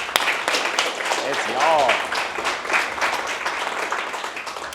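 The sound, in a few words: company staff applauding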